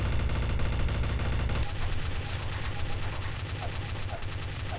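Rapid gunfire from a heavily recoiling gun in Garry's Mod Trouble in Terrorist Town, a dense loud burst of shots that fills the clip, with voices faintly present underneath.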